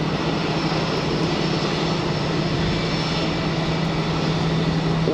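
Small aircraft at Geneva Airport, a loud continuous engine drone holding steady and close with no breaks.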